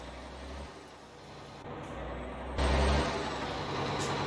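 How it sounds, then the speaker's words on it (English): Mack R truck in American Truck Simulator rumbling steadily with a low engine drone and broadband road noise, growing louder near the end in rainy driving conditions. "Gotta love that truck sound."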